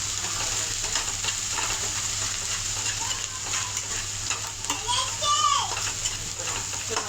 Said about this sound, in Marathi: मी अद्रक लसूणची पेस्ट टाकली, त्याला फ्राय करून घेऊ मस्त